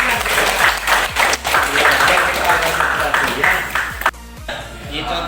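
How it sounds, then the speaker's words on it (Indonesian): A classroom group applauds at a teacher's prompt, a burst of many hands clapping that continues under ongoing talk and then stops sharply near the end, leaving quieter room sound. "Tepuk tangan."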